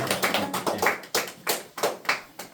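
A handful of people at a lecture clap in a brief, uneven burst of applause, sharp and close, with no talking.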